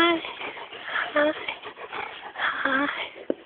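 A dog at a farm whimpers and whines in repeated high-pitched bursts while playing with a ball, with a person talking over it and a sharp yip near the end.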